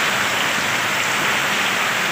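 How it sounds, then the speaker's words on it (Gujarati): Heavy monsoon rain pours down steadily in a dense, continuous hiss over a rooftop terrace, loud and close with no voices. "પાછળ કેટલો મસ્ત વરસાદ પડે છે"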